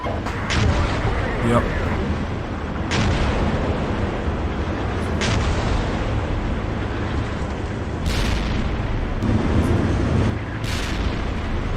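Mortar rounds and explosions boom repeatedly through a military combat game, sharp blasts recurring every few seconds over a dense, continuous rumble of battle, with brief radio-style voices in between.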